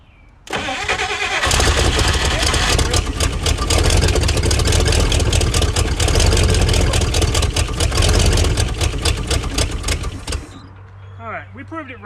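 A 1956 Chrysler Windsor engine, old and long unstarted and leaking fuel, cranks and catches, then runs steadily and loudly at a rough near-idle for several seconds before shutting off, with voices heard nearby.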